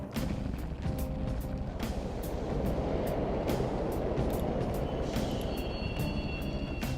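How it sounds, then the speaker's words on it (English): Subway trains in the video game Persona 5 rumble and clatter continuously along the rails, a loud steady roar with rhythmic wheel clacks and a faint high squeal, heard alone without talk. "The trains are totally running."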